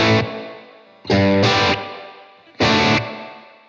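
Electric guitar played through a Blackstar Amped 2 pedal amp with its plate reverb engaged, three loud strummed chords each ringing out with a wide, spacious tail that fades between hits; a brief word is spoken early on.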